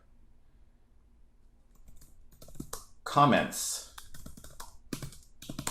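Brief spells of clicky computer keyboard typing while writing code, close and light, mixed in with someone talking.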